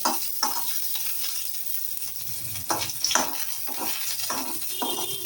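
Chopped garlic and ginger sizzle steadily in hot oil, with repeated spoon-stirring scrapes in bursts over the frying hiss, close and fairly loud throughout.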